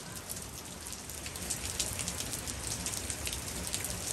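Heavy rain from an intense atmospheric river storm falls on garden leaves and surfaces, a dense, steady hiss of drops that stays unbroken and grows slightly stronger midway.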